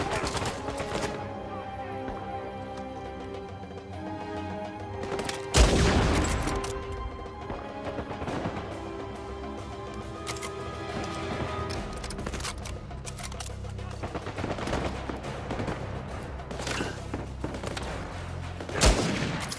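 Repeated gunfire bursts and sharp shots from a third-person action game, Uncharted 4: A Thief's End, with loud booming impacts near six and nineteen seconds over dense, continuous combat noise.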